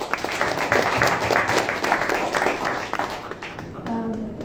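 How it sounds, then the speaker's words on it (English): Audience applause at a Japanese knotweed symposium as the next speaker is introduced, a full room clapping loudly and steadily for several seconds, then thinning out toward the end with some murmuring crowd. "Give her a big applause."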